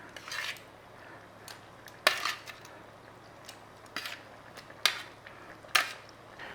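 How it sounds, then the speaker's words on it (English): Pork is stirred through in a cooking pan with a utensil, giving soft, fairly quiet scrapes and a few sharper metallic clinks at irregular intervals; no one talks. "Little stir through, get that in there."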